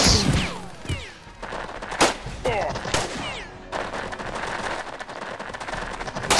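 Gunfire in the turn-based tactics game Jagged Alliance 2, with several sharp single shots and short bursts spread across a few seconds, loud and close, amid other game sounds.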